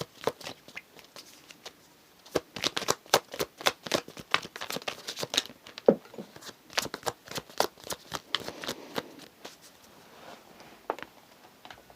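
Tarot cards being shuffled in quick, uneven bursts of crisp riffling and flicking, with dense clusters of sharp papery slaps and brief pauses between them, close and fairly quiet.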